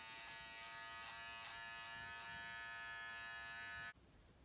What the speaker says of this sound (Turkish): Şöyle çok ufak ben tıraş makinesi üzerinden geçeceğim.